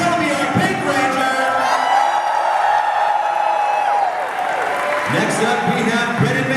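Loud crowd cheering, whooping and clapping fills the hall as a Power Rangers Dino Supercharge cast member is introduced at a fan convention panel, sustained throughout with brief dips and fresh bursts of shouts.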